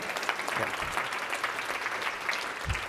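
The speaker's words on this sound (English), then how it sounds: "go ahead and applaud, that's fine" Steady applause from a conference keynote audience, a dense wash of clapping at even loudness throughout, with a few brief low thumps near the end.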